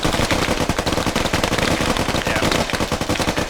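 Rapid automatic gunfire in the military shooter game Squad, a dense, loud, continuous burst of shots rattling close by for several seconds.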